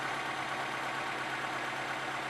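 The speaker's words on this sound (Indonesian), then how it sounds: "Kemudian kita dengarkan suara mesin, apakah ada suara kasar atau suara-suara aneh ya." A used car's engine idles steadily during a pre-purchase check, a smooth continuous hum with a faint low throb and no pauses, alone with no voices.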